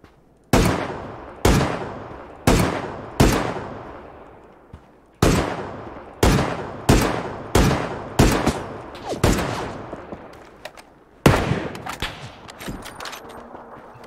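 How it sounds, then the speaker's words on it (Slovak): Heavy single shots ring out in a PUBG match, about a dozen loud cracks at uneven intervals, each followed by a short decaying echo, with no talking between them. "z boku po nás niekto strieľa"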